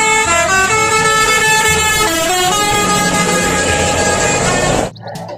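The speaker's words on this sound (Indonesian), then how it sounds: "Yang ini ada mobil bus telolet." A toy telolet bus horn plays a loud, continuous multi-tone melody with shifting pitches, filling nearly five seconds before cutting off abruptly.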